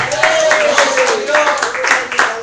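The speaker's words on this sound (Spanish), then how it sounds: "aplauso a Cristo, hermano." A church congregation claps during a worship service, a loud rhythmic clapping mixed with a sustained voice singing or calling out over it.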